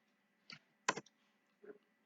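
Three sharp, quiet keystroke clicks on a computer keyboard entering a CAD command, spaced apart over about two seconds with no talking.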